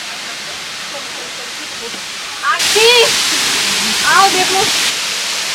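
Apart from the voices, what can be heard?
Marmala waterfall near Vagamon, Kerala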